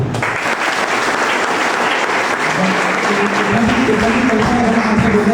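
An audience claps at a ceremony, dense sustained applause that fills the whole stretch, loud and close, with a faint murmur of voices beneath it.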